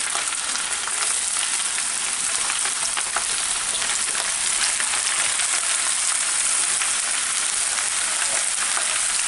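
Boiled honey mushrooms fry in a pan with a dense, steady sizzle, close and loud, running unbroken with no voices over it.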